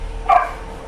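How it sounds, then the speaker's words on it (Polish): A single short bark from a rescued shelter dog, heard from inside a parked car with the windows open; one quick, mid-loudness yelp over a low steady hum. "Pies jest ze schroniska po przemocy."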